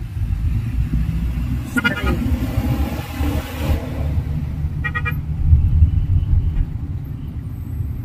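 Busy road traffic rumbles continuously with engines close by while car horns toot in short bursts, and voices talk over the din.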